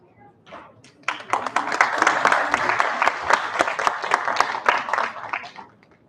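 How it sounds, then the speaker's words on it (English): Audience clapping at a health hackathon event starts after a few scattered claps, swells into a sustained round of applause for several seconds, then tapers off. "Are you clapping bored or happy?"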